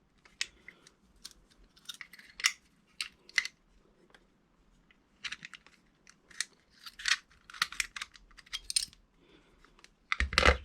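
Keys clink and rattle in scattered bursts as they drop into a small lock box beside a Maxus 5-lever BS mortice lock, close and fairly quiet, with a louder thump at the end.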